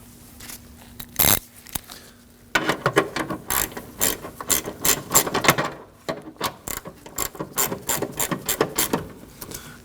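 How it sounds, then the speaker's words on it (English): Hand ratchet clicking as bolts are driven in after refitting the air box and reservoir on a 2009-2014 Ford F-150; rapid bursts of close, crisp clicks with short pauses between strokes, no talking. "With the air box and reservoir in, we can go ahead and install our bolts."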